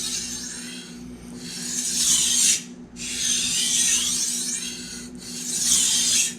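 A knife is sharpened on an Altstone Fukami whetstone in long rasping strokes, three distinct passes with brief pauses between, close and clear, no talking.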